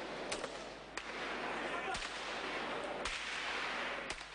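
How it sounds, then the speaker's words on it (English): Sniper gunfire in a war zone where regime positions are dug in nearby: several sharp, distant cracks spaced about a second apart over steady outdoor background noise, with no speech. "A sniper is shooting at them"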